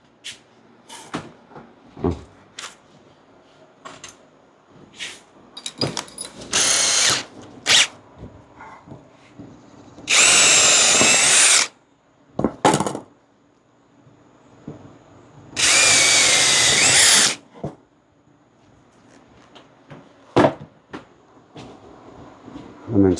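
Power tool cutting a hole in a trunk panel of a Kia Ray car, several loud bursts of drilling and grinding of a second or two each, separated by quieter clicks, knocks and handling noises.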